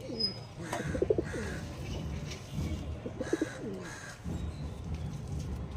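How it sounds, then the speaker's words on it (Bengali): Two pure Andhra pigeons, a cock and a hen, coo close by in a pair of low rolling bursts, each followed by a short pause, with light background noise. "চলুন দেখিয়ে দিই পায়রা দুটো এবার"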